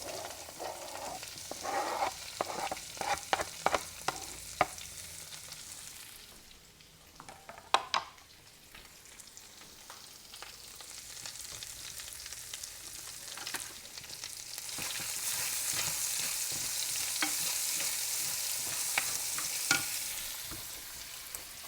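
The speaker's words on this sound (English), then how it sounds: "I've chopped up about 3 mushrooms here, and I'm going to rake these into the skillet." About three chopped mushrooms raked into a hot skillet, with scraping and stirring clatter at first, then a steady crackling sizzle of frying that grows louder and fuller toward the end, close up with no talking.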